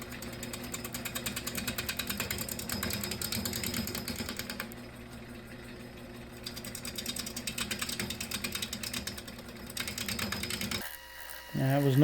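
A 3/8 swept back bowl gouge cuts a very hard, cracked and rimmed spalted elm bowl spinning on a lathe, giving a steady, loud rough scraping and chattering that runs continuously, easing briefly midway, then shifting at the end.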